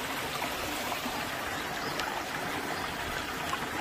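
A mountain stream flows through a mossy hillside on a walk, a steady, moderate rush and trickle of water heard alone without talking.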